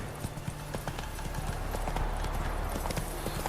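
Horse hooves clip-clop at a steady gallop across a field in The Witcher 3, a continuous rapid drumming of beats over a low rumbling ambience.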